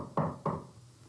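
Two sharp knocks on a door come close together, near and fairly loud, followed by a quiet room.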